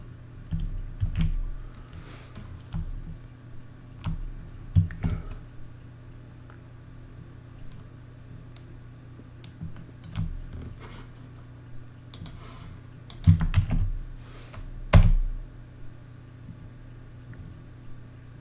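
Computer keyboard typing a sudo password, sparse soft key clicks in short bursts over a low steady hum, with a few louder taps near the end.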